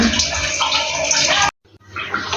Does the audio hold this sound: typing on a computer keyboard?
no